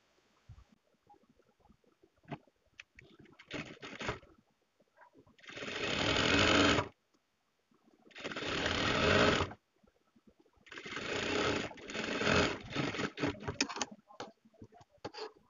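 Sewing machine stitching piping onto a sleeve runs in three bursts of close mechanical whirring, separated by pauses with small handling clicks and rustles.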